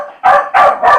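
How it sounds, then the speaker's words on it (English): A dog named Jeff barks three times in quick succession, loud and close, each bark a sharp burst with short pauses between, in an otherwise quiet indoor setting. "Oh, Jeff's going to bark."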